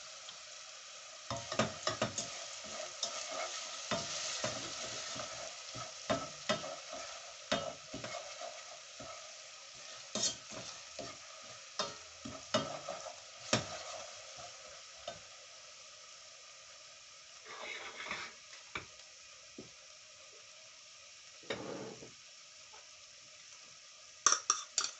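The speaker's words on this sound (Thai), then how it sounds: "นี่นะคะพอเราผัดไปสักพักค่ะ" Food stir-fried in a pan in a Thai home kitchen, a steady sizzle broken by repeated scraping and clinking strokes of the utensil against the pan, close and fairly loud, with no talking.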